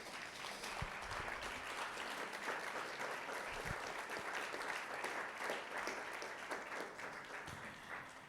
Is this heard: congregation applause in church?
yes